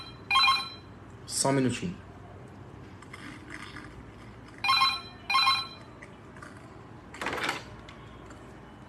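A phone rings with an incoming call in several short bursts spread across the moment, fairly close, while a person speaks briefly between the rings.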